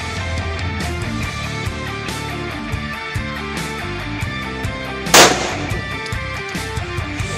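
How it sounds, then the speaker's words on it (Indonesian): A single sharp gunshot at police battalion shooting practice, one loud crack standing out over steady background music. "Ya, menembak."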